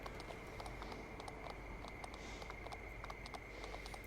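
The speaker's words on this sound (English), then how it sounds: "it feels kind of weird riding a horse and moving him around with a steering wheel" A horse walks in Farm Sim 19, its hooves clip-clopping in a steady, soft rhythm beneath a constant hiss and hum.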